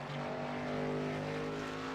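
Race car engine droning steadily at high revs with strong harmonic tones, the pitch easing downward as RPMs drop off, loud and continuous throughout.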